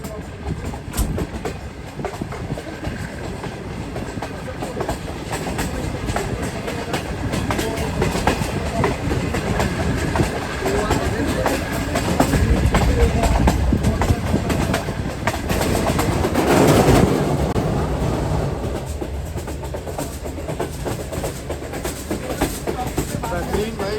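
Green Line Express passenger train with AC coaches running at speed near Lahore, a continuous loud rumble with clickety-clack of wheels over rail joints, swelling briefly partway through.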